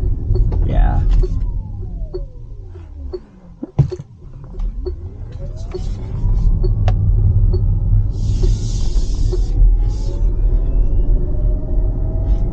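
A 2022 Lucid Air electric car accelerating smoothly, a low rumble with rising and falling electric motor whine, road noise swelling, heard from the cabin while a person talks.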